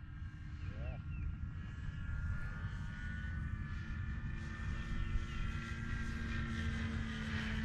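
A Dynam C-188 Air Tractor RC model airplane takes off with a steady, loud electric propeller whine and droning hum that rises slightly in pitch, sustained throughout, close by, with faint voices.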